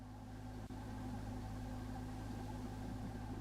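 In the horror game Dreamcore: Playrooms, a faint engine hums and drones steadily as a low, even mechanical tone, distant and unbroken, with one brief click near the start.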